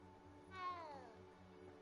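A cat in the Hogwarts Legacy video game gives a single clear meow when petted. It rises and falls over a steady game music bed, close and fairly soft.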